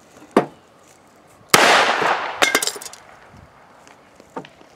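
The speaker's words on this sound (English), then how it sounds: "I am now going to shoot through the oil filter and see if it suppresses the sound." A handgun fires through an oil filter suppressor outdoors: one sharp crack, then a loud blast with a crackling tail, a few further snaps, and faint distant pops afterward.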